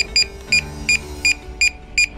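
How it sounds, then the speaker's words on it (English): A DJI Smart Controller for drones gives six short, bright electronic beeps at a steady pace, roughly every 0.4 seconds, sounding close and clear over a faint low hum. "The remote controller will start to beep after 2 seconds."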